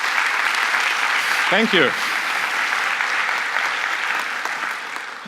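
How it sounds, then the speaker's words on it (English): Conference audience applauding the organizers at a developer event, a full, sustained round of clapping that fades slightly toward the end, with one voice speaking briefly over it. "give a huge round of applause to them."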